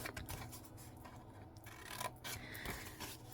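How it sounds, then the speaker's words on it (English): Scissors cut the two ends of a paper craft card gift box, producing faint, close snips and crisp paper rustles in a quiet room. "I'm just going to cut on the 2 ends."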